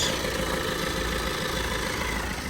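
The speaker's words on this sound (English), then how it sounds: "I mean, the engine sounds good." A high-mileage Vauxhall Astra diesel engine idles steadily at close range, a continuous low, even rumble with no voices.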